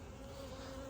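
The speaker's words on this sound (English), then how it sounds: "a good bit of bees across these 2 frames" Honey bees inside the bottom box of a hive hum in a dense, steady drone with an even pitch, close and continuous, with no voices.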